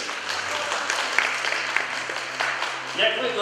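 Applause from an audience at a school prize ceremony for winners of IT olympiads in Kyiv, a steady dense patter of clapping filling the room with some murmured voices beneath.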